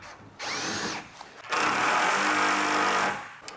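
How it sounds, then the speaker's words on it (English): A power drill whirs in two bursts, a short spin followed by a longer, louder sustained run pre-drilling a plywood sheet, close by. "I'm pre-drilling these so that the plywood sheet doesn't split."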